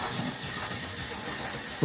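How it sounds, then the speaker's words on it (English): A Bachmann GWR 56XX model locomotive runs along its track with a steady, even rolling rumble and faint hiss, close and continuous throughout. "I'm going to go around one more time with this locomotive."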